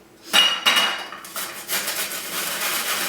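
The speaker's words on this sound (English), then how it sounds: "you're just grating the outer yellow layer of the lemon" Lemon rind being grated on the middle setting of a box grater, a few scraping strokes against metal with clinking, close and fairly loud, no talk.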